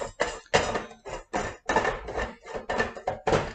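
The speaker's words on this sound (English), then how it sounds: "You push this tool inside, and you can then just unscrew this ring." Metal scraping and clicking sound in short, rhythmic bursts as a tool turns the bottom securing ring of a stainless steel countertop water filter, close up with no talking.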